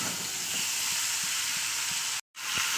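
Chicken, cauliflower and potato sautéing in a pan, a loud, steady sizzle and hiss with faint stirring knocks, briefly cut to silence near the end before resuming.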